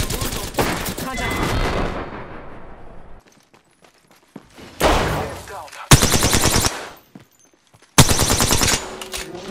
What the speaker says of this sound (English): Yeah, I'm getting shot at.